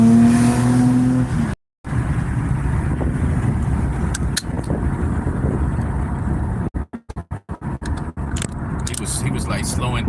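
A car on a road accelerates to pass a slower vehicle ahead, its engine and road noise steady and close from inside the cabin, with people talking over it.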